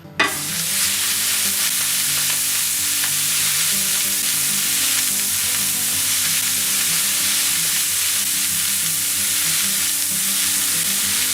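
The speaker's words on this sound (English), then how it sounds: "we're going to get the ground beef into a pan and get some nice color on it" Just over a pound of ground beef fries in a pan with a loud, continuous sizzle and crackle, steady from start to finish with no talking.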